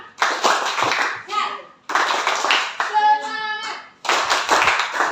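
A group of schoolchildren in a classroom performs a rhythmic spirit clap, with bursts of loud patterned clapping separated by short gaps in which children's voices chant.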